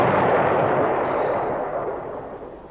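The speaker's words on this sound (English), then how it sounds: "Now we have an explosion" A broad, rumbling explosion blast from the naval war game War in the Pacific fills the moment at once and slowly fades away, with no voices over it.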